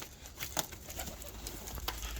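Soft cooing of a Lahore pigeon with faint rustling in the background, quiet and fairly close.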